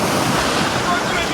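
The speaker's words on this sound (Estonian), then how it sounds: "Paremalt vasakult tuleb siin laine," Ocean waves breaking on a shallow Australian shore, a loud continuous wash of surf and wind rushing against the microphone, with no gaps across the short stretch.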